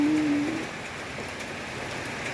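Steady rain falls during a small thunderstorm, a continuous even hiss of drops on surfaces outdoors, fairly loud and unbroken, with a brief low tone at the start and no voices.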